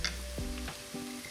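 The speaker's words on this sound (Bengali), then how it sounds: "অর্ধেক মটরশুঁটি দিয়ে একটু নেড়েই ঠান্ডা করা ভাত অর্ধেক দিয়ে দিচ্ছি।" Cold cooked rice and green peas, seasoned with ajinomoto, fry and are stirred in a hot pan for veg fried rice, giving a steady close sizzle broken by light scraping.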